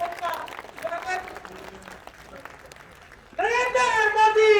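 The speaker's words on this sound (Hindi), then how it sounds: "जोरदार तालियों के साथ उनका स्वागत।" A crowd applauds to welcome Rajendra Rathore, the BJP opposition leader, at a rally in Bhadra, Dungrana. The clapping runs under an announcer's voice and gives way to loud massed chanting near the end.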